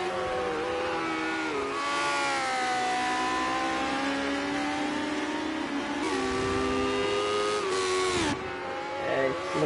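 Lotus 78 race car on a fast lap at Brands Hatch, engine screaming at high revs with rising and falling pitch through gear changes, passing close and loud, with commentary voices faintly underneath.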